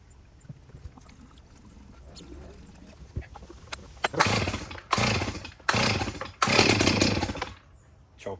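A Stihl chainsaw, just refuelled after a repair, is pull-started: several loud rasping bursts rise one after another close by, separated by short pauses, with quieter handling noises before them.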